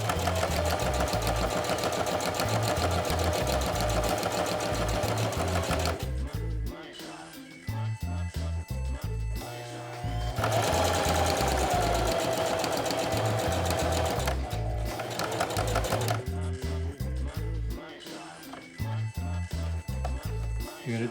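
A home sewing machine stitches a DIY surgical mask in fast, steady whirring runs, pausing briefly around the middle before resuming at full speed, close and loud throughout.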